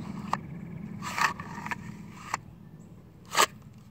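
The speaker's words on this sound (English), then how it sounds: "Okay, what you're hearing is it bottoming out." A pistol seating in a Kydex holster makes a handful of sharp, close plastic clicks and light scrapes, spaced irregularly against a quiet background.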